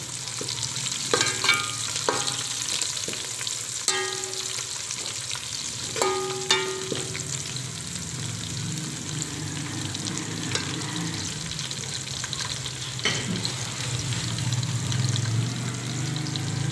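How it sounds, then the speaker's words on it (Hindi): Chopped green chillies sizzle and fry steadily in a pan with onion, ginger and garlic, with occasional clinks and scraping of stirring throughout. "अब हम इसमें डाल देंगे हरी मिर्च 2 कटी हुई, इसको भी हल्का सा फ्राई कर लें।"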